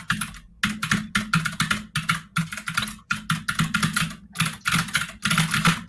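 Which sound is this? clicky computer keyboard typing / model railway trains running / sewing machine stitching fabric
clicky computer keyboard typing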